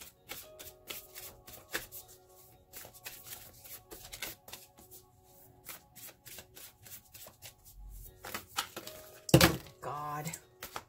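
Oracle cards from the Whispers of Love deck being shuffled by hand, a quiet run of soft papery slaps and riffles with a few sharper knocks near the end, faint and close.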